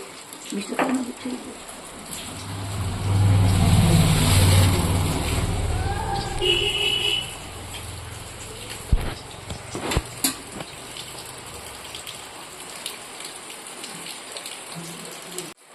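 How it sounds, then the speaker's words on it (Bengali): Steady rain pours outside a home kitchen where oil is heating for spring rolls, a continuous hiss with a louder stretch early on, and a few faint knocks and a brief distant engine-like hum. "আর বাইরে এই ওয়েদারে বৃষ্টি।"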